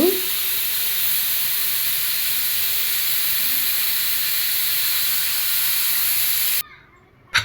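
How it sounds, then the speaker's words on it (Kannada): A loud, continuous steam hiss rushes out of a pressure cooker for several seconds, then cuts off abruptly, leaving near silence and a brief clatter. "ಈಗ ಸ್ಟವ್ ಆಫ್ ಮಾಡಿ ಇದ್ರ ಏರೆಲ್ಲ ಬಿಟ್ಟು ಕುಕ್ಕರ್ ಲಿಡ್ ಓಪನ್ ಮಾಡೋಣ"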